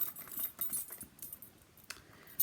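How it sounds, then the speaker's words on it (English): A couple of metal keys jangle and clink softly as they are slipped onto a Louis Vuitton Damier Azur key pouch, with faint scattered chinks at close range and no talking. "So here's a couple of keys, and we'll just put it on there like so."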